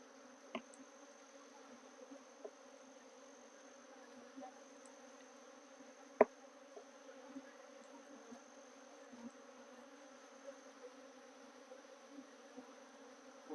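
Honey bees agitated in an opened, smoked hive early in the season during a brood inspection, a steady close buzzing drone running throughout with a few faint brief clicks and taps and no talking.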